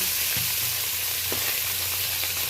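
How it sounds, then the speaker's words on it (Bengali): Tarai fish pieces sizzle and crackle in hot oil in a wok, a steady close frying hiss with a few soft clinks, no voices. "আর কিছুটা পরিমাণ মাছ ছিল, এইগুলো কড়াইতে তুলে দিচ্ছি ভেজে নেওয়ার জন্য।"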